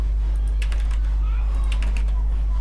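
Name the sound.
typing text on a computer keyboard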